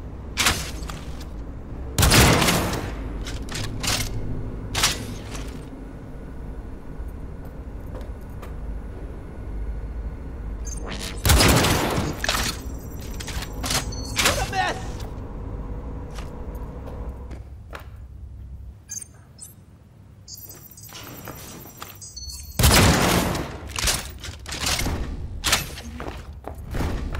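Bursts of gunfire and heavy thumps erupt in a Cyberpunk 2077 shootout, with loud volleys near the start, around eleven to fifteen seconds and again near the end, separated by quieter stretches.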